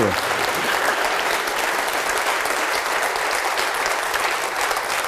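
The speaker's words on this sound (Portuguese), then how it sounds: "vamos aplaudir mais ao nome de Jesus" A church congregation claps steadily and loudly throughout, a dense sustained round of applause with no pauses, with faint voices mixed into the crowd.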